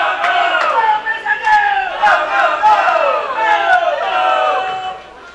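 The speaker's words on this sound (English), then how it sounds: "And the Malaysian guys are cheering" Malaysian fans cheer and shout loudly as a crowd at the 2013 World Championships women's team bowling semifinals, with voices rising and falling in waves throughout.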